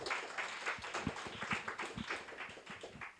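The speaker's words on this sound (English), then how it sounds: "Round of applause." Audience applause at a live market-outlook presentation, a scattered patter of individual claps at moderate distance, fairly light and irregular, fading slightly toward the end.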